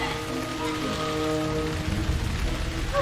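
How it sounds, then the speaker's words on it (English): Rain falling in the LEGO Harry Potter video game, a steady patter on surfaces that runs throughout, with sustained musical tones underneath and a slightly heavier rush toward the end. "we're going to ignore those lobsters and give her a little bit of rain"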